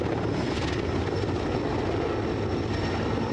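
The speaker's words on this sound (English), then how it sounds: "Listen to the firefighting plane dumping water." A firefighting plane over a forest fire in Greece, a steady droning engine roar with a broad rushing wash, continuous and fairly loud throughout.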